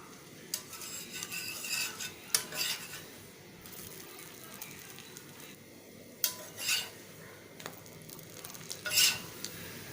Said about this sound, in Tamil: பட்டர் ஹீட் ஆனதும் பிரெட்டை இதுல டிப் பண்ணத போட்டுறலாம்.